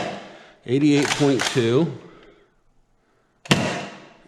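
An X-Shot Chaos Meteor toy blaster fires rival foam balls: a sharp snap near the end of the clip, after a speaking voice and a quiet pause.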